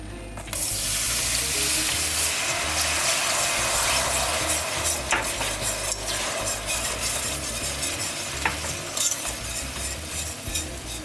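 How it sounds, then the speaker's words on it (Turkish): Milk is poured slowly into a cooked flour roux for lasagna and stirred constantly, giving a steady close wet hiss and bubbling with scattered scraping and clinking of the utensil in the pan, no talking. "Şimdi yavaş yavaş sütümü ekliyorum."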